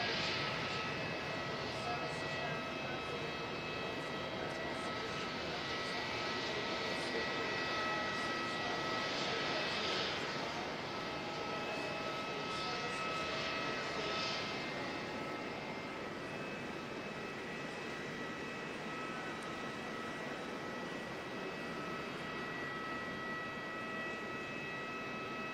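A Qantas jet airliner on the runway at Auckland Airport in foggy conditions, its engines producing a steady, broad roar that holds at moderate distance for the whole stretch with only slight swells.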